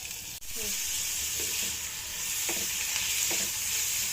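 Garlic, dried chillies, onion and prawns fry in a pan with a steady, close sizzling hiss, broken by a brief dip near the start and a few soft stirring scrapes.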